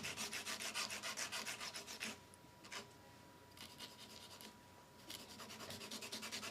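A hand file rasps rhythmically across acrylic nails during a manicure, a quick run of close scratchy strokes that pauses mid-way and then picks up again.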